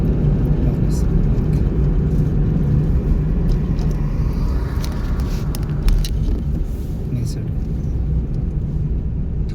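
A car cruising in third gear gives a steady, low engine and road rumble that fills the cabin throughout, with faint voices at times beneath it.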